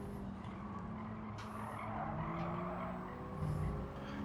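Tires squealing on a 2022 Honda Civic Type R during a racing video game at Autodrome Lago Maggiore Center. Sustained, fairly quiet screeches rise and fall over a steady engine drone, with no voices.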